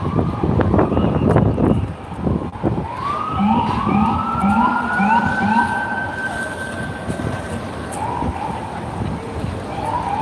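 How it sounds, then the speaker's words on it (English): Police paddy wagons carrying officers pass with sirens wailing, rising and falling tones sweeping repeatedly at close to moderate distance, heard over engine and road noise after a burst of nearby rumble. "So all these paddy wagons that are passing us right now are filled with cops ready to be deployed"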